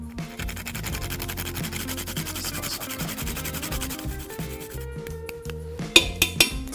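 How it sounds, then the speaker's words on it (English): Whole nutmeg freshly grated over a pot gives a steady, close scraping rasp lasting several seconds, followed by a few sharp clinks at the end. "A tablespoon of nutmeg. So I'm going to freshly grate that. And I'm just going to do it over the pot"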